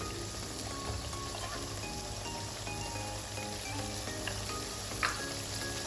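Beef with green chilies and salt is stir-fried in oil, producing a constant, even sizzle with faint clinks of stirring and a sharper crackle near the end.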